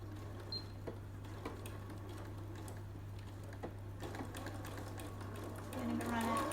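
A sewing machine runs a straight seam and finishes with a back stitch, a steady mechanical whir with light ticking, close by and fairly even throughout.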